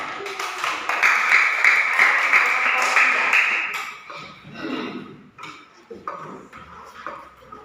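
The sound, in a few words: class clapping hands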